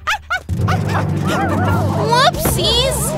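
Cartoon Dalmatian puppies yip and bark in quick, high squeaky bursts over lively background music and excited cartoon voices.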